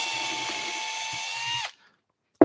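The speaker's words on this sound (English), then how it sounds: "35 mil drill" A 35 mm drill bit bores into wood for an Adirondack chair bracket, the power drill whining loud and steady for about a second and a half before cutting off abruptly, followed by silence and a brief knock at the end.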